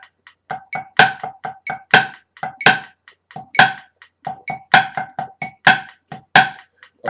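A pipe band snare drum plays accent exercise C, crisp, ringing strokes in a fast steady pattern with louder accented hits filling gaps between lighter taps, close and alone.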